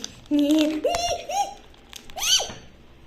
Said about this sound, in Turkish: bunun paketi çok zor açılıyor